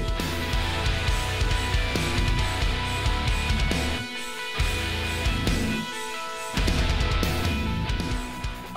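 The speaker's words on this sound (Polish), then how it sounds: "Ta wersja, którą przed chwilą oglądaliście i teraz słyszycie delikatnie w tle" A full-band rock cover of a song plays quietly in the background, with dense sustained instruments and two brief dips where the low end drops out.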